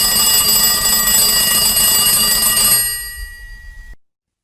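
Electronic telephone ringing as a call is placed, a steady repeating ring with a bright tonal edge that rings continuously before cutting off abruptly near the end.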